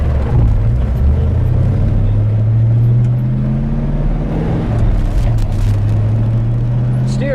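A right-hand-drive Ford Mustang cruises in fourth gear at about 50 mph, heard from inside the cabin as a loud, steady low engine drone with road rumble and a slowly rising tone.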